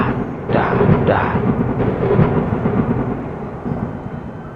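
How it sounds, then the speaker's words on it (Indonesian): Thunder strikes during a dark, drizzly sky, a loud close rumbling crash that rolls on for several seconds with rain hiss beneath and no voices. "Tiba-tiba terdengar petir menyambar."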